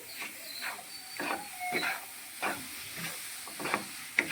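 A spoon scrapes and stirs a thick semolina barfi mixture in a pan over low heat in repeated strokes, with a soft sizzle underneath.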